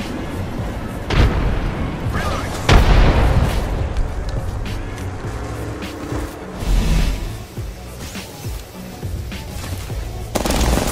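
A frag grenade detonates in the shooter game Apex Legends amid a dense, loud firefight, with heavy booms and bursts of gunfire over a constant rumble.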